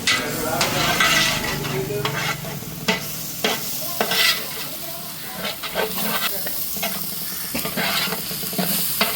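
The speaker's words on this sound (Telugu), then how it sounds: "అల్లం వెల్లుల్లి పేస్ట్ కూడా పచ్చివాసన పోయే వరకు ఫ్రై చేసుకోవాలి" Ginger garlic paste frying in a pan, a steady sizzle broken by repeated sharp spoon scrapes and clanks as it is stirred, close and fairly loud.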